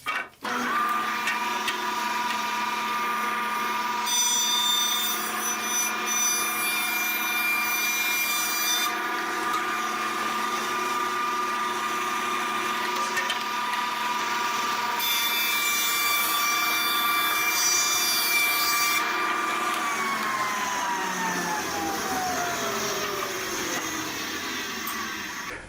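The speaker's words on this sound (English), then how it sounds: "this piece being 8 feet long with about a 3/16 inch twist from end to end took some careful positioning and planing to get the twist removed from this side" An 8-foot wooden board is planed to take out a twist, a power planer whining loudly and steadily, its pitch shifting as the cutter bites into the wood in long passes, then winding down at the end.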